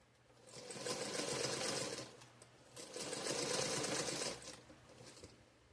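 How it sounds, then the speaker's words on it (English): A green and purple Featherweight sewing machine stitches in two steady bursts of a few seconds each with a short pause between, a close, even mechanical whir with no voices. "you will recognize this machine, my little green purple featherweight"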